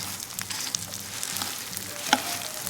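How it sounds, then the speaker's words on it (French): Thin fideuà noodles fry directly in oil over medium heat for a Spanish fideuà, giving a steady close sizzling hiss with light stirring and one sharp utensil clink near the end. "on vient mettre les spaghettis, les fideuà, directement dans l'huile"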